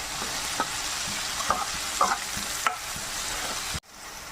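Bitter gourd frying with a little salt in a pan for pavakka curry, a steady close sizzle broken by several sharp scrapes and knocks of a spoon stirring, ending with a sudden stop.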